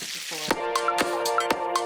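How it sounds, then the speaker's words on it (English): Sausages browning in a hot frying pan give a close, steady sizzle with sharp crackles and pops at regular intervals over the frying hiss. "So I pop my sausages in. And I just want to just give them a little browning"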